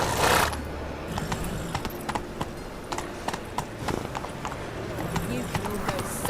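Hooves clip-clop in a steady galloping rhythm as Roach the horse runs in The Witcher 3, carrying on at moderate level with scattered rattling in the background.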